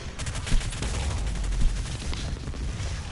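A grenade blast and heavy gunfire in the Doom Eternal shooter game, with booming bursts and sharp peaks at two points amid continuous loud rattling action.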